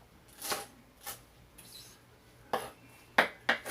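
A knife slices by hand through cabbage on a cutting board for coleslaw, giving a few sharp, separate crunchy strokes that speed up toward the end, close and clear with no talking.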